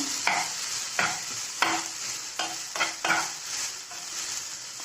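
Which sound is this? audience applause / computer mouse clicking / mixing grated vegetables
mixing grated vegetables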